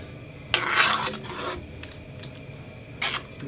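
Chicken flavour soup mix being stirred into a pot of soup: a few scraping, rasping strokes of a utensil against the pot, quiet and close, with short gaps between them.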